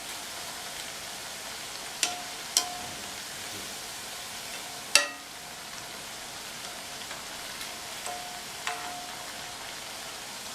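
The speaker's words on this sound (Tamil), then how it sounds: "இதே மாதிரி பெரட்டி போட்டு இந்த எண்ணெயோட சலசலப்பு சத்தம்லாம் கம்ப்ளீட்டாக அடங்கணும்" Wheat and maida murukku frying in hot oil over a medium flame, a soft steady sizzle and crackle with a few sharp clinks and taps rising above it. No one speaks.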